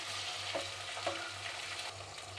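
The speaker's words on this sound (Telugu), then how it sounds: "అల్లం వెల్లుల్లి పేస్ట్ పచ్చివాసన పోయే వరకు బాగా ఫ్రై చేసుకుందాం" Half a spoon of ginger garlic paste frying in a pan for a potato and green pea kurma, giving a steady close sizzle with a few stirring scrapes and no talking.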